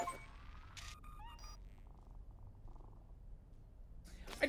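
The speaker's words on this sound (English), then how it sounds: "Mr. Dibbles is the most adorable cat in the world" Mr. Dibbles, a cat in Cyberpunk 2077, purrs as a soft low rumble that runs steadily under brief electronic game tones and chimes.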